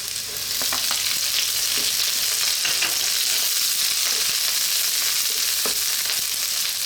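Garlic and onion frying in a pan for kikiam vegetable fried rice give a steady, close sizzle with scattered crackles and pops and a few soft stirring clicks throughout.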